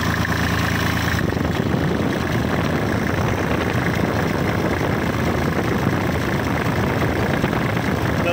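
A Kubota 34 hp tractor's diesel engine idles steadily up close, a dense low rumbling chug that continues evenly throughout.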